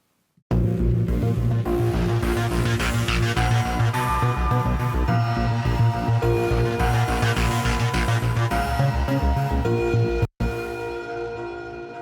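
Heavyocity Mosaic Leads arpeggiated octave bassline layered with two synth lead sounds, a dense, loud, continuous driving texture that briefly cuts out before resuming more softly.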